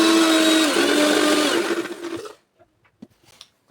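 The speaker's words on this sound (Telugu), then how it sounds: "సో అందుకనే కొంచెం ఎక్కువ బ్లెండ్ చేస్తున్నాను నేను." A blender whirs loudly and steadily for over two seconds, blending a cocoa powder drink with sugar, its motor pitch dipping slightly as the load shifts, then cuts off, leaving a few faint clicks and knocks.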